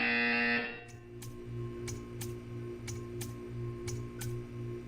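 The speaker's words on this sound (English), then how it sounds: "You will hear a buzzer." After a short loud electronic tone, a buzzer in the Portal 2 video game pulses in an even rhythm, about eight repeating beats roughly half a second apart, clear and moderately loud over a low hum.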